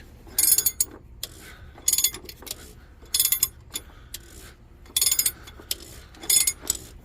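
Quick bursts of metallic ratcheting from a wrench loosening fuel filter bolts on a Freightliner Cascadia with a DD15 engine, coming in short repeated rounds with pauses between, close and moderately loud.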